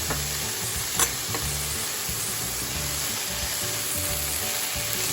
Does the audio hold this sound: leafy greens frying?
yes